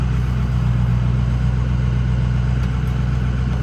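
A Ford 6.0 Powerstroke diesel truck engine idles steadily at operating temperature, a continuous low rumble that holds even and unbroken throughout with no talk over it.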